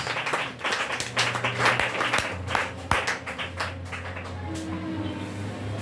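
A church congregation claps for the Lord Jesus Christ in a dense, steady round of applause from many hands that gradually thins and softens, with a low hum beneath.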